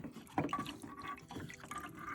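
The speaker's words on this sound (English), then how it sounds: "Use this guy to drain out any water first" Small splashes and drips of water run out of the coin trap drain on an LG washing machine, brief and close, with a few uneven trickling bursts and no talking.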